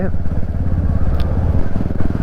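A Royal Enfield Classic 350 Bullet motorcycle pulls away with a loud, low, thumping engine pulse and a steady rumble as the rider rolls on the throttle, with talk in the mix.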